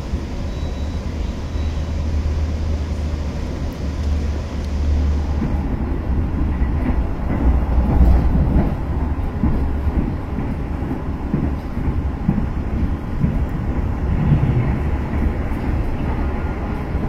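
The Argo Bromo Anggrek, pulled by a jumbo locomotive, goes by as a loud, continuous rumble and rattle of wheels and carriages that stays heavy for about seventeen seconds.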